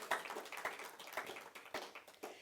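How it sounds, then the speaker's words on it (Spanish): Scattered, faint hand claps from a church congregation, a few distinct sharp claps in loose rhythm rather than full applause, fairly distant. "Dale un fuerte aplauso al Señor, hermano."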